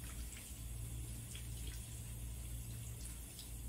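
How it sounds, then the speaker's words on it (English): A denture is rinsed under a running faucet, a soft steady stream of water splashing close to the mic with faint irregular drips and a low background hum throughout. "Make sure you also rinse your denture."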